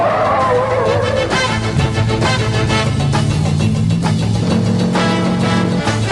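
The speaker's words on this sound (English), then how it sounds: "Spinning a car out in reverse is the best test of stability there is." A 1971 Oldsmobile 442 W-30 convertible with a four-speed spins out in reverse. The engine roars loudly with rising and falling revs, and tire screech and skid noise run throughout.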